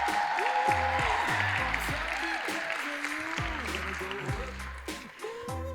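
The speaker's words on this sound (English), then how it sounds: "We give Sarah a round of applause for looking absolutely spectacular." Wedding guests applaud the bride at a Monastery Event Center reception, steady dense clapping from the room while music plays underneath.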